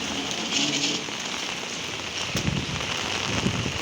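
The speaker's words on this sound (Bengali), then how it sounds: "এখন যাচ্ছে অনেক বৃষ্টি, এত বৃষ্টি যাওয়াও যায় না" Heavy rain falls in a continuous close wash of drops hitting surfaces, with occasional louder spatters on a nearby surface, steady and moderately loud.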